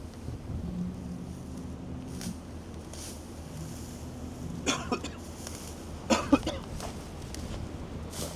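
A few harsh coughs sound around the middle and end, over steady wind and outdoor rumble on a Texas ranch, with low background noise throughout.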